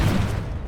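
Bombarda blast spell in the video game Hogwarts Legacy: a loud, booming explosive burst that fills the low end and then decays over under a second, with no voices over it.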